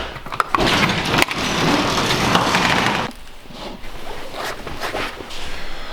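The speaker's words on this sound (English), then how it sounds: "So I'm gonna get my coat on" A coat zipper pulled up nearby, a loud sustained rasp with sharp clicks at the start, followed by softer rustling of the coat fabric.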